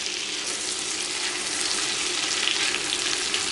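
Frozen onions and jarred garlic fry in melted butter, giving a loud, steady, hissing sizzle that holds without a break, close up and free of speech.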